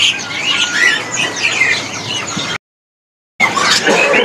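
Many caged songbirds, including cendet shrikes and ciblek prinias, at a bird market kiosk chirp and tweet in dense, loud, overlapping calls, with a short silent gap partway through.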